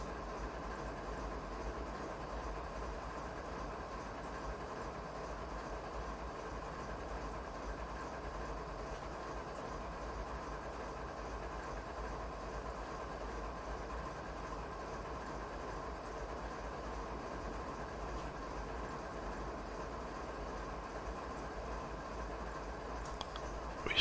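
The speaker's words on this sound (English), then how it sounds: "Let's just put brakes on the train here." Train braking to a stop in Train Simulator 2019 on a Canadian mountain pass, heard as a steady, constant rail rumble and low engine drone with faint hiss, loud and unbroken throughout with no voice.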